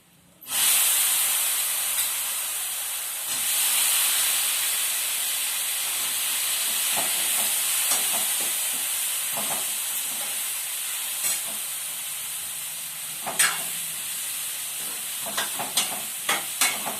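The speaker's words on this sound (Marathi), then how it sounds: "आता आपण त्याच्यात फोडणी टाकूया" Spices hit hot oil with a sudden loud sizzle that hisses on and slowly fades, while a spoon scrapes and clinks a few times near the end.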